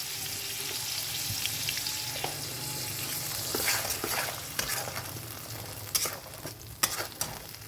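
Ground spice paste hits hot oil in a wok, already holding fried tempering spices and chickpeas, for a vegetarian Bengali taro-leaf dish. It sizzles steadily, with scattered scrapes and clinks of a stirring spoon growing sharper toward the end.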